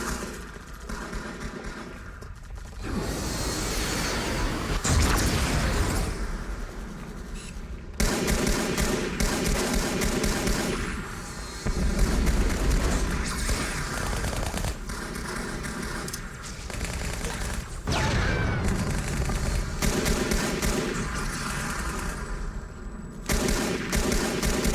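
Sustained gunfire in a Halo battle on Xbox, dense rapid bursts and thumping blasts rolling continuously with brief pauses, loud and close with engine rumble underneath.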